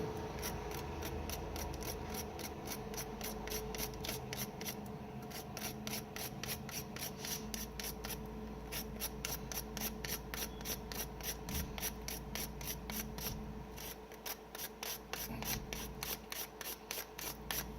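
A Ready Man tinder scraper is drawn repeatedly across a surface, producing a fast, even train of raspy scraping strokes close by and fairly quiet, continuing throughout with a short lull near the end and no speech.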